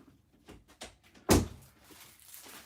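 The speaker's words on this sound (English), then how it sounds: "I'm just going to shut this door so the dog doesn't come running in." A door is shut with one sharp, loud thud midway, after a few soft shuffling knocks and handling sounds. Quiet room noise follows.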